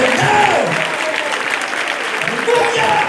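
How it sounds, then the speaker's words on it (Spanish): Church congregation applauding during an energetic Spanish-language sermon, steady dense clapping filling the room, with a preacher's voice and sustained tones carrying over it. "si usted está aplaudiendo al Señor, yo quiero que lo aplauda de verdad"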